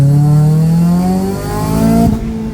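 A black Honda with a K24 engine revs loud and close, its pitch climbing smoothly through the gears with a brief dip and shift before the engine note steadies again.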